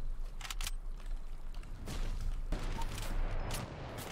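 Hunting rifle gunshots in an online shooter video game, a few sharp cracks standing out over a busy background of distant gunfire and rumble, fairly faint overall.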